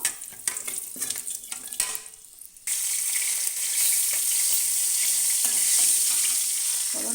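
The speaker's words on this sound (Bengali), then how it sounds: "ফোড়নটা ভেজে নিচ্ছি" Black cumin seeds and two green chillies fry in hot oil in a kadai, a loud, steady sizzle that jumps up after some earlier stirring noises and holds close and constant to the end, with no talking.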